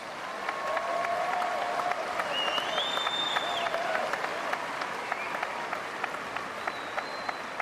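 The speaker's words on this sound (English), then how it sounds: "can we have another huge round of applause for all of our finalists?" Sustained audience applause fills an arena at Crufts dog show for the Scruffts finalists, steady dense clapping with occasional whistles and shouts over it, loud and continuous throughout.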